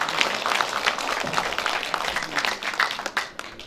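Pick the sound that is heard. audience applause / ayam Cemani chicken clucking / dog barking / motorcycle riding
audience applause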